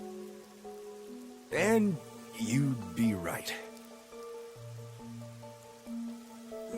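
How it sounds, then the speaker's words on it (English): Steady rainfall in the video game Master Detective Archives: Rain Code, a constant soft patter running underneath a man's speech and sustained background music tones. "The rain, it never stops."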